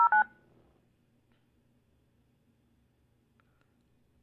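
Telephone keypad tones from a phone line, two brief dual-tone beeps at the start, then near silence with a faint hum and one tiny beep later.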